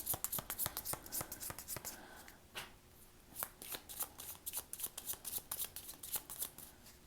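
Tarot cards are shuffled by hand in a long run of quick, crisp riffling flicks, close and fairly quiet, with a brief pause midway before the shuffling resumes.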